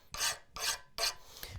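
A file rasps across the head of a forged, air-cooled colonial nail header in three quick, even strokes, then a fainter fourth, each a close, crisp scrape with brief pauses between.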